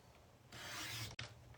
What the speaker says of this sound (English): I'm going to bring the cutter and press down on it, and then cut that off.